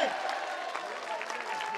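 Audience applause fills a bhajan evening at a temple gathering, a steady wash of clapping throughout with a faint sustained tone and some voices mixed in.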